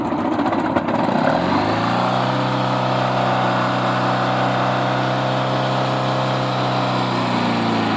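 A 1986 Honda Goldwing GL1200 SE-i motorcycle engine revs up briefly and then settles into a steady, loud idle drone with a strong low hum, running alone with no talk.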